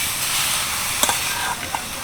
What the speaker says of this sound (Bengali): আমড়াগুলো দেওয়ার পর একটু নাড়াচাড়া করব আমরা থেকে যে জলটা বেরিয়েছে সেটাও কমে যাবে এবং একটুখানি ভাজা ভাজাও হয়ে যাবে